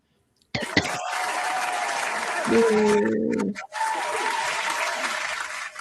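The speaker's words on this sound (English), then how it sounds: "That's called big applause." A big applause sound effect plays on a radio-style talk show, a loud dense crowd clapping and cheering that starts abruptly and runs steadily, with a brief voice and a cough breaking in midway.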